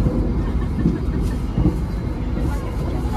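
The Malabar economy-class train runs on rails, giving a steady, dense rumble with soft rhythmic clatter heard from inside the carriage, and faint voices mixed into the background.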